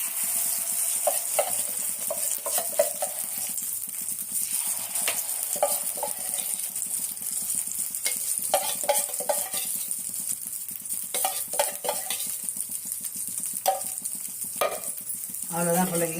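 Kara kuzhi paniyaram batter fries in a hot pan with a steady sizzle, while scattered clinks and stirring scrapes of a small ladle or spoon come and go throughout.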